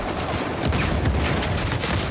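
Rapid gunfire from an Uncharted 4 multiplayer match, a dense continuous burst of shots close up with no talk over it.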